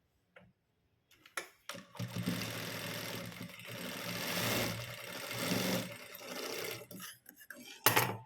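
Sewing machine stitching a seam at the end of a blouse piece, a steady close mechanical whir running for several seconds with a brief burst near the end, taking short pauses between runs.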